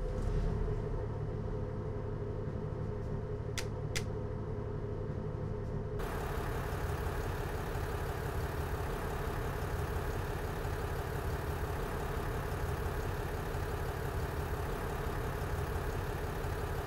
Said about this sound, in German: Dann starten wir wieder den Motor.